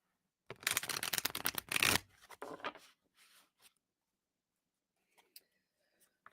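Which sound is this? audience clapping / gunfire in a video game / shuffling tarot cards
shuffling tarot cards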